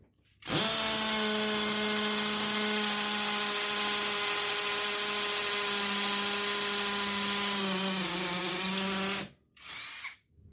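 A compact cordless drill driver from AliExpress bores a hole with a 10 mm bit at high speed, giving a loud, steady motor whine that holds for about nine seconds, cuts off, then returns in a short final burst.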